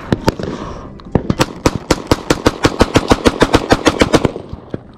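Handgun fire at an outdoor desert shooting spot on Hodge Road: a few scattered loud, close shots, then a fast, steady string of about twenty sharp cracks in quick succession, with no talking.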